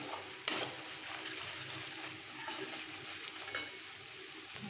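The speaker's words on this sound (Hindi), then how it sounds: "मसाला अच्छे से भुन रहा है, इसमें हम कसूरी मेथी ऐड कर देंगे।" Onions and spice masala fry in a pan for aloo gobhi, a faint, steady sizzle under a few soft scrapes and taps of a spoon stirring.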